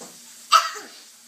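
A single short, sharp sneeze bursts out abruptly, nearby, against a quiet background.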